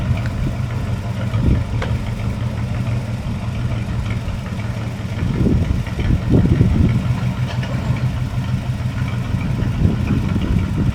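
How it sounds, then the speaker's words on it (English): A tiny Plymouth locomotive at a roundhouse idles with a steady low engine rumble as it moves a huge rail car, swelling in a few heavier surges midway before settling back to a constant drone. "You see it's moving a huge rail car with that tiny engine."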